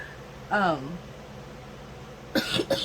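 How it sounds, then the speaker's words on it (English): A short throaty sound, then a pause, then two sharp, close coughs in quick succession. "I still have this stupid cough."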